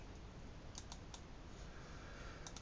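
A few quick key clicks as a note is typed on a computer keyboard, faint and close over a steady low background hiss, with no talking.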